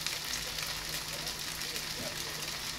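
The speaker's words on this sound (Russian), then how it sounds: "Масло брызгается." Oil spattering and crackling in a hot frying pan, a steady dense hiss with faint pops, close and fairly even throughout.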